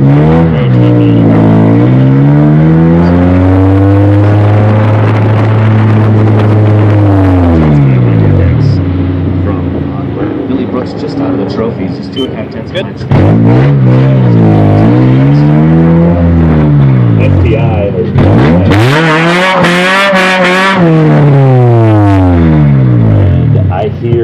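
Race cars at an SCCA Pro Solo autocross in Mineral Wells, Texas rev hard and roar past in repeated sweeping passes, engines rising and falling in pitch, loud and close, with a voice talking over them.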